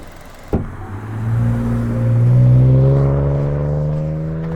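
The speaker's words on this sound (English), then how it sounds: "It's just a simple engine. It sounds good. It revs nice." A sharp click, then a nearby 2021 Kia Soul S engine revs up, climbing and holding a rising whine before easing back down.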